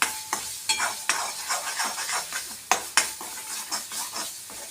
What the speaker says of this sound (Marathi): कसुरी मेथी टाकली आणि छान परतू द्यायचंय.